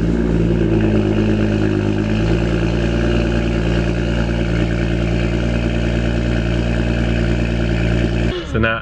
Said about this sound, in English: Let's hear it start up first.